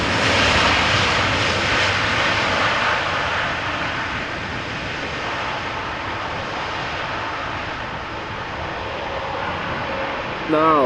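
A Boeing 777-200ER, 18 years old, arriving at Amsterdam Schiphol from Guayaquil: a loud, sustained jet engine roar that eases slightly mid-way then surges again at the end, steady and continuous throughout.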